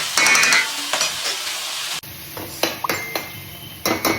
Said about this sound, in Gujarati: ડુંગળીને જ્યાં સુધી ગરમ થઈ અને એની લાલાશ ન પકડે ત્યાં સુધી આપણે એને બ્રાઉન કલરની થવા દેવાની છે